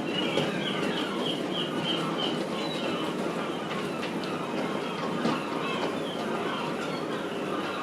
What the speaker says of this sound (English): This is a P3 on a goods train.